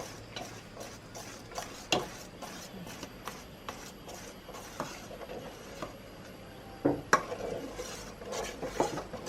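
A spoon stirs thick mung bean pudding batter in a pot, scraping and ticking against the metal in irregular strokes, close by and fairly quiet, with no talking.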